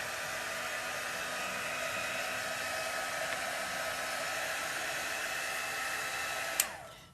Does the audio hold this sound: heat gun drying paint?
yes